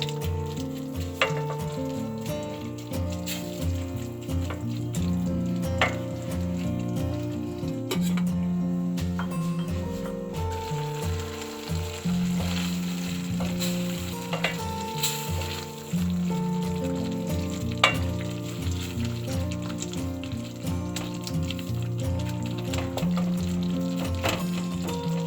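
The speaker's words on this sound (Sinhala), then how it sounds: "දැන් මේ නිවිති ටික මේ අලත් එක්ක තව විනාඩි 5ක් විතර හොඳට කුක් කරගන්න ඕනේ." Spinach and potatoes cook in a pot for a cream of spinach soup, giving a steady, moderate sizzle and bubbling that lasts throughout, with faint clinks and no talk.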